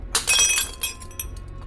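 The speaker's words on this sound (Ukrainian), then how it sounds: "Пляшка неслухняно вислузнула з долоні та розбилась." Glass bottle slips from a hand and shatters on a shop floor, a sharp bright crash followed by a scatter of tinkling shards and a few smaller clinks as pieces settle, close and loud with no talk.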